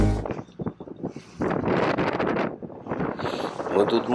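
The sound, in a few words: wind and waves on water while fishing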